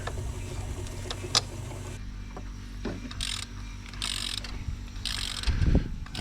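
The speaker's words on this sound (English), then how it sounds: "I'm going to remove the oil filter. So the oil filters are 36mm." A ratchet loosening the 36mm oil filter housing on top of the engine of a Range Rover L405, clicking in short bursts with pauses between, close and fairly clear.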